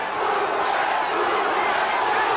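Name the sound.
boxing arena crowd chanting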